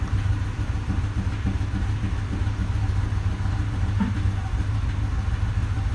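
A Ford F-250 with the 6.2 engine idles high and rough from a misfire caused by a broken valve spring, a loud, uneven chugging drone with irregular stumbles throughout.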